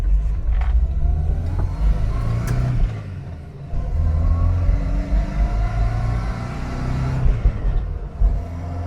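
A Vauxhall Viva HC accelerating through the gears, its engine droning and rising in pitch, dipping briefly at a gear change and pulling again, heard steadily from inside the car with no talk.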